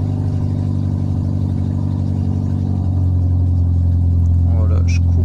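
A car engine running steadily right after a coolant refill, a loud, close, even rumble with a low hum that holds throughout, with a brief high squeak near the end.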